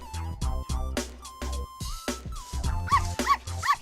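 Hazelnut, a small cartoon dog, barks and yips in a quick series of sharp, high yaps and whimpers, close and lively, some notes rising into squeaky pitched cries near the end.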